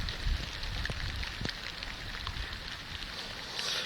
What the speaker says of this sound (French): cette pluie qui nous embête aujourd'hui est quand même essentielle